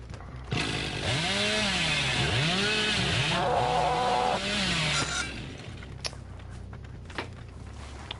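A chainsaw in the horror game Dead by Daylight revs loudly for several seconds in rising and falling surges, then cuts out, leaving scattered faint thuds and footsteps.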